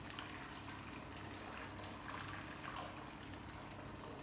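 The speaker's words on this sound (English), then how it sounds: "So I'm going to add water here." Water pours steadily into a cooking pot readied for boiling lobster shells, a continuous close splashing gush that runs the whole time with no voices.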